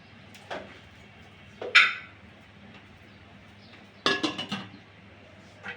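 A metal lid set onto a cooking pot of khichuri, heard as a few short clanks and clinks with quiet gaps between them, the last knocks in a quick rattling cluster.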